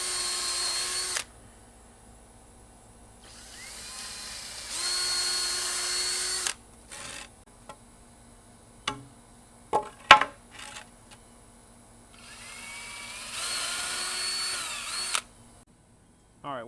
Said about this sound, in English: This is heart pine, so I've got to drill some holes, pre-drill them to keep this lumber from splitting.